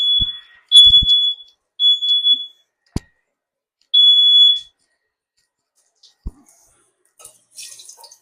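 Smoke alarm in a kitchen while egg rolls fry, sounding several loud piercing high beeps in short separated bursts, with faint clicks and kitchen clatter between.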